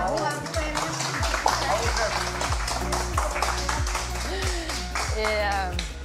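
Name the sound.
applause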